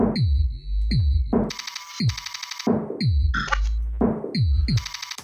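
Electronic drum beat with punchy low kicks and bright hi-hat and snare hits in a steady, straightforward pattern, loud and close.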